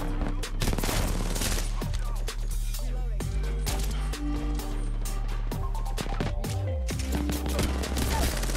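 Loud, dense gunfire from the video game Fortnite runs without pause, with rapid bursts and single shots layered over game music. A voice talks excitedly over the shooting.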